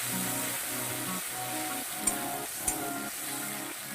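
Spice paste of turmeric, chili, coriander, cumin and ginger sizzles in hot oil for an ash gourd curry, a steady close frying hiss with the scrape and clack of stirring, including two sharp knocks.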